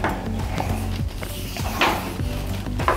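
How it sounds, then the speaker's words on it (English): A collapsible crab trap for Maryland crabbing gets its wire doors folded down flat, giving a few close metallic clanks and rattles spread over a few seconds, with no talking. "Just fold the doors down."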